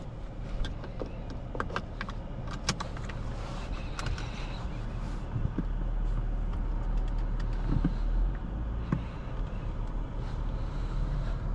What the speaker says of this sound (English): this twin turbo 6-cylinder has a really nice sound to it